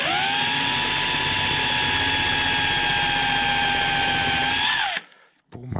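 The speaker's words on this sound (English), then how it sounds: "I'm gonna put a little pilot hole right here, right in the center." An electric drill bores a pilot hole into the center of a wooden jack-o-lantern carving blank, a steady loud whine that runs continuously for about five seconds, then winds down and stops.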